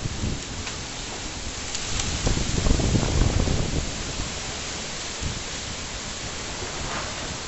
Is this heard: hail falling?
yes